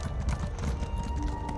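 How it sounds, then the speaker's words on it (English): Horse hooves clip-clop in a steady galloping rhythm while riding a mount in the video game The Elder Scrolls Online: Necrom, close and moderately loud, with game ambience underneath. "Let's get out the horse."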